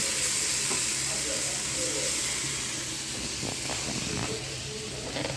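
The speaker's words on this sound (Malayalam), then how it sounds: "ഗ്രീൻ പീസ് കറിക്ക് വഴറ്റിക്കൊണ്ടിരിക്കുക" Ingredients sautéing in a pan for a green peas curry give a steady, close frying hiss throughout, with a few soft stirring clicks near the end.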